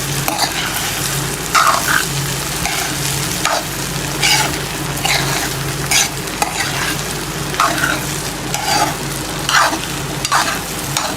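Leftover egg fried rice is stirred and tossed in a hot pan, a loud continuous sizzle broken by regular scraping strokes of the spatula, close up and without talk.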